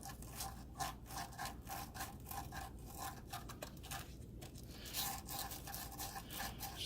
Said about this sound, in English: with some light grit sandpaper, you're going to clean the ends of these